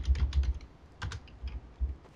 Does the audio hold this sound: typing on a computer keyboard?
yes